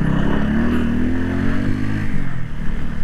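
A motorbike engine runs steadily and loudly, riding off-road over loose dirt and sand, its low drone holding throughout with a slight drop in pitch near the end.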